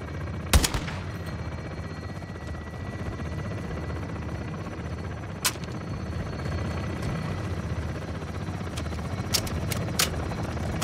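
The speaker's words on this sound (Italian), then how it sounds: "Mi sparano." Gunfire in Call of Duty: Modern Warfare II aimed at the player, with a few sharp shots over a steady roaring drone of helicopter and battle ambience, no talking.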